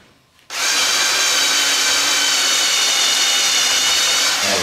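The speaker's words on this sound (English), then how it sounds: "we'll turn it over and drill them from the other side" Power drill boring into wooden parts during restoration of an 1865 Forster & Andrews pipe organ: a brief quiet moment, then a loud, steady, close whine of the drill running continuously, with no voices.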